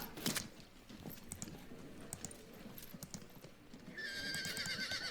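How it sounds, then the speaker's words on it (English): Horses of armored horse archers in the Field of Glory 2 strategy game, with faint clip-clop hoofbeats and a whinny, quiet game sound effects with a higher tonal cue near the end. "these are armored horse archers"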